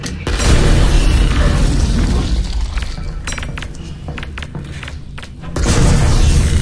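A grenade goes off in Half-Life: Alyx as a loud, booming blast with shattering debris, followed by scattered clinks and thuds before a second heavy rumble swells near the end.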